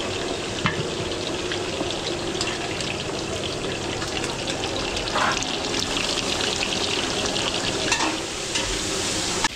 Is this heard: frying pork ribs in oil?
yes